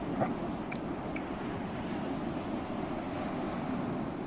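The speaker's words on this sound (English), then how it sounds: "The wind definitely sounds different." Wind blows steadily by open water with a broad, rushing hiss and low buffeting against the microphone, a constant and moderately loud backdrop with no voices.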